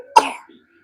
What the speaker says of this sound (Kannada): ಆಕಿಗೆ ಕೆಮ್ಮು ನೆಗಡಿ ಡಾಕ್ಟರ್ ಹತ್ರ ಹೋಗಿ ಬಂದರು